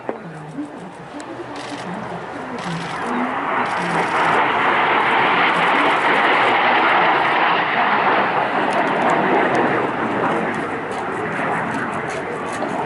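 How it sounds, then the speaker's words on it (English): A MiG-15 jet fighter with red Soviet stars flies past at the Bournemouth Air Festival, its engine roar building from a distant rumble into a loud, sustained rush that fades slightly near the end, with a voice talking underneath. "The iconic red Soviet star, running in left to right then. High speed, very fast, agile fighter."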